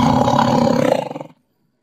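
A tiger lets out a single loud, close roar that holds for about a second before breaking into short pulses and fading to silence.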